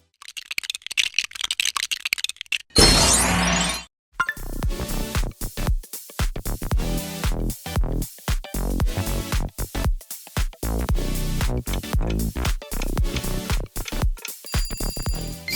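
A brand's audio logo: a rising sweep, then a busy run of plastic-like clicks and rattles over rhythmic music, loud and close.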